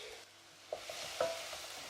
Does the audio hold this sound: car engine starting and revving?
no